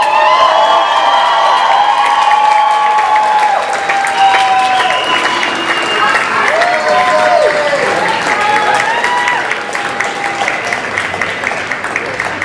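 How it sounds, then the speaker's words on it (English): Audience applause with scattered cheers and whoops at a burlesque contest, a steady loud wash of clapping that carries on for the whole stretch while voices call out over it. "Have a big round of applause for all the girls."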